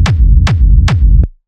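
Three punchy techno kick drum hits, layered with a clicky attack and a mono low rumble, each thump decaying in a downward sweep at an even rhythm before a short final tick and silence.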